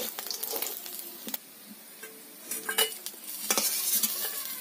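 Light sizzling of small fish frying in mustard oil, with metal utensils scraping and clinking against the pan in short bursts.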